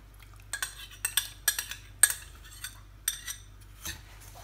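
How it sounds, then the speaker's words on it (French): A utensil stirs melted butter into crushed cake crumbs in a bowl, a series of soft scrapes and light clinks in irregular bursts, quiet and close. "Vous mélangez le tout."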